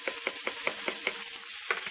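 Whole onion stir-fried in bacon grease sizzles steadily while a utensil clicks and scrapes against the pan in a quick, regular rhythm, moderately close.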